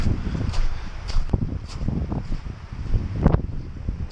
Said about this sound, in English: There's been a couple of crazy wind gusts here